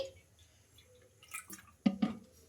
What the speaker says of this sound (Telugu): ఇప్పుడు ఇందులోకి వాటర్ అయితే వేసుకోవాలి